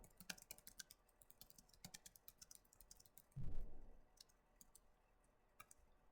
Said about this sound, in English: I'm going to type in my question.